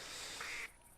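A pintail duck call sounds in theHunter Classic duck-hunting game, a single short, quiet quacking whistle about half a second long that then cuts off.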